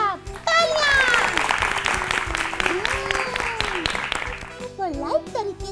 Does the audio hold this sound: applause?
yes